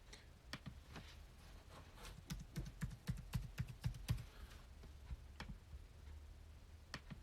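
A password is typed on a computer keyboard as a run of soft, close key clicks, quick and uneven, bunched into a burst in the middle and followed by a few scattered taps, with no talking.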